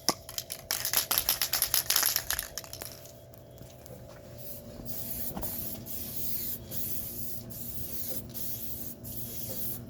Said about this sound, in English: You need to spray it to clear over the top after 10 minutes